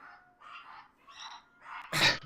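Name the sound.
dog barking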